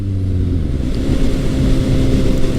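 A Suzuki GSX-S750 midsize sport-standard motorcycle cruises at steady highway speed, its engine a constant loud drone mixed with wind rush, held smooth and even throughout with no talking.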